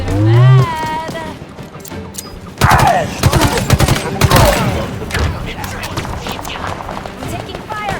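Dense rapid gunfire crackles through a Halo Infinite firefight, bursts of automatic shots and sharp impacts layered with game effects, loud and close, with brief voices calling out amid the shooting.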